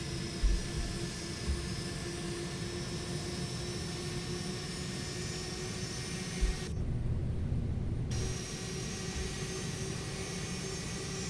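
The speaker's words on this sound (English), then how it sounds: "taxiing only with one engine" A Boeing 767 in the Prepar3D flight simulator taxis on its right engine alone, a steady droning engine hum with a few soft thumps and a brief dip in the upper hiss midway.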